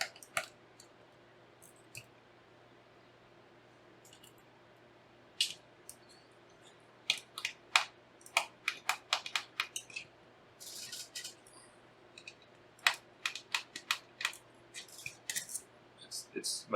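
Small screws come out of an MSI RTX 3080 Ti Ventus 3X graphics card in quiet, sparse metallic clicks and ticks that grow into rapid clusters, with faint talk in the background.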